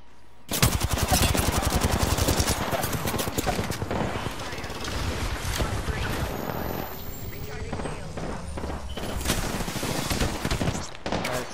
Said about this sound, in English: still shooting me